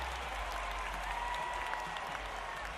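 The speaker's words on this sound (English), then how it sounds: "Nice big applause from this Cleveland crowd needing this win." Simulated crowd applause in the baseball video game Action PC Baseball forms a soft, steady wash of clapping from a Cleveland home crowd, faint and continuous for the brief stretch.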